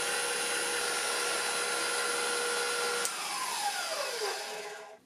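A KitchenAid 6 Qt Professional 600 stand mixer whips cream with a loud, steady whirring drone up close, then is switched off and its motor winds down over the last two seconds.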